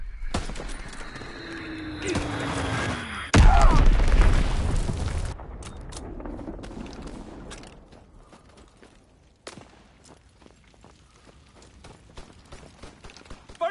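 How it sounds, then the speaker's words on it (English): Bombs exploding in Call of Duty WWII with a heavy, close boom that rumbles on for a couple of seconds, set among creaking mechanical game sounds and fainter later thuds. "Enemy bomb incoming. Get to cover."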